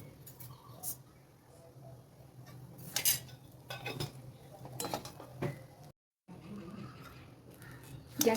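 A spoon stirs poha in a pan over a medium flame, making intermittent scrapes and metallic clinks in short irregular bursts against a quiet background.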